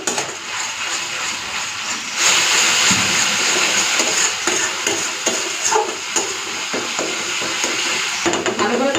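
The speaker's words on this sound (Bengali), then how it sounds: "ভালো করে কষে নিই তেল ছাড়া পর্যন্ত" Tomato paste sizzles and fries in hot oil in a pan for a pomfret fish curry, with steady crackling and repeated scraping stir strokes close up throughout.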